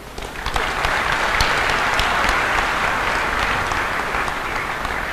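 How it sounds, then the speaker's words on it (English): A graduation ceremony audience applauds steadily and loudly for the whole stretch, a dense wash of many hands clapping with no break. "like a round of applause for everybody who's here"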